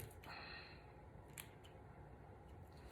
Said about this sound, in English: Just going to use my scissors to get rid of this.